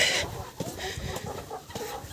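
Several chickens cluck in short, irregular bursts close by, with soft scuffling between calls.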